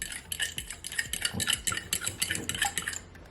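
A milk mixture is stirred in a bowl with a utensil, producing quick rhythmic clinks and scrapes that repeat in steady bursts, close and without talk.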